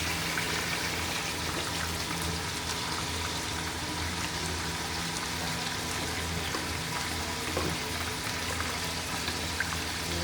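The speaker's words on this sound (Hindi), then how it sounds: "मैं इसमें पानी ऐड कर रही हूँ।" Water is added to chana dal and meat in a cooking pot, giving a steady, faint pouring and bubbling hiss that runs unbroken throughout.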